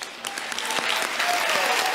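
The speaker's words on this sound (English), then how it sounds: "Let's have another round of applause for Lisa Bloom." An audience applauds after a spiritual talk, a dense wash of clapping that swells and holds steady and fairly loud throughout.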